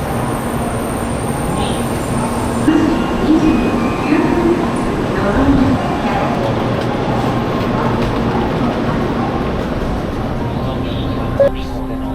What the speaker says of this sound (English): There's something special about traveling Japan by Shinkansen.